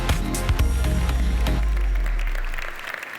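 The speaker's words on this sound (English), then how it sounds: "thank you very much for the kind applause" Audience at the Volkswagen press conference at the 2016 Detroit Auto Show applauds as Volkswagen Group of America CEO Michael Horn is welcomed, with a loud musical fanfare and bass hits dominating before the sound drops away.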